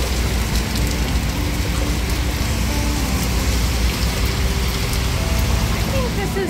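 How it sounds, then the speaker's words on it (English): Heavy rain pouring down in a downtown Portland, Maine street, a dense, loud, constant hiss of drops on surfaces with passing traffic noise and some voices underneath. "When we want lobster rolls, it pours rain"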